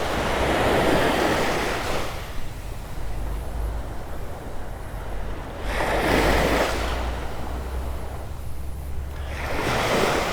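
Ocean surf rolls onto Vanderbilt Beach in Naples, Florida, with loud waves breaking and washing in repeated surges every few seconds, mixed with steady wind noise on the microphone.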